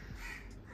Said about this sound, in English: The birds are like tempted to come in.